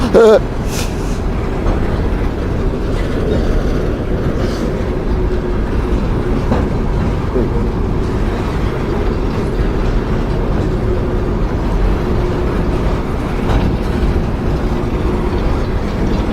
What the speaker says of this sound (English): I'm standing out here filming the train.